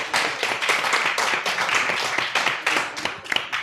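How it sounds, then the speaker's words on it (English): An audience claps and applauds at a live podcast event in a comic shop, a dense patter of hands lasting a few seconds at moderate distance. "Please put your hands together for this great place."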